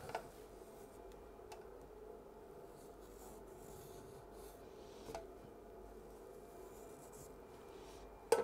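Masking tape is rubbed and wrapped around a pencil inside a beer can, a steady soft rasping with a few sharper clicks and taps near the start and end, close and quiet with no talk.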